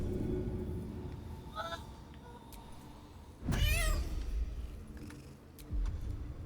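A short synthetic cat meow in Baldur's Gate 3 rises briefly over background game audio, followed by a louder whooshing burst.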